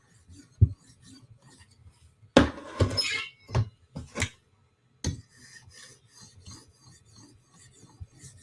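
A knife being worked on a sharpening stone gives scattered close rasping strokes, a few louder scraping passes and short rubs separated by quiet gaps, with no voice.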